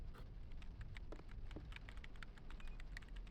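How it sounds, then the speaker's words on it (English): A character in the Hitman: Blood Money video game types on a computer keyboard, giving a steady run of quick, light key clicks at moderate distance over a low background hum, with no talking. "This guy's typing on his F keys."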